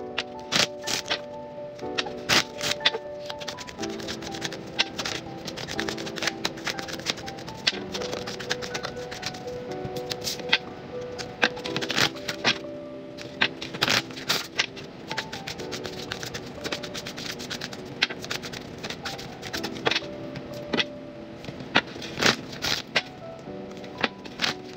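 Tarot cards being shuffled by hand: a long run of rapid, dense riffling and flicking bursts, steady and close, with brief pauses, over faint background music.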